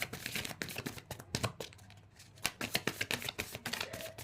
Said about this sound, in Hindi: ओके, नीचे गिरी जा रहे हैं कार्ड